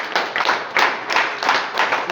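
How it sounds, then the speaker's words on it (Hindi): Rhythmic audience clapping at a district sports celebration event held by a cement company, loud and close, in steady bursts of synchronized claps with no talk over them. "एक बार सर के लिए जोरदार ताली हो जाए"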